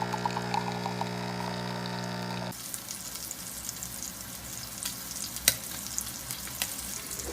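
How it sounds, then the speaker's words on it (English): Steady, close sizzling and crackling of sausages frying in a pan, continuous hiss with occasional sharper pops; an electronic tone hums at first. "3 sausages sizzling in the pan."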